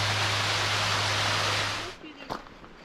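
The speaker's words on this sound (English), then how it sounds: "So it looks like there's a second waterfall" A waterfall on Holland Creek Trail in Ladysmith, BC, roars as a broad, loud rush of water that fades away near the end, leaving a quieter outdoor background with a brief knock.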